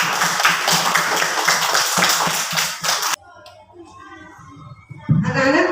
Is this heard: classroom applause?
yes